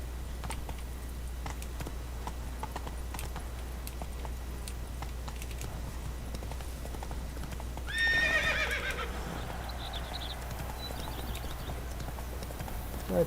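The horse Roach gallops with steady hoofbeat clip-clops in The Witcher 3, then lets out a clear neigh partway through, all under light keyboard typing.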